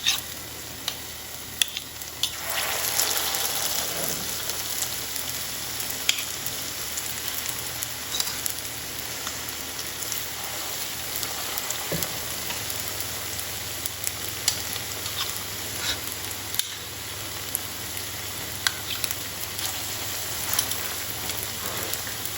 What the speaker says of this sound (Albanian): Kam skuqur një pjesë të petullave dhe shumë pak më kanë mbetur.